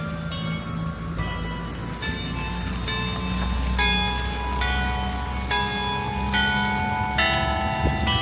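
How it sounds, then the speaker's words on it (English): Church bells ring in Malacca's heritage quarter near St. Peter's, a steady, resonant peal of repeated tolls over a constant outdoor hiss. "The bells went on for another"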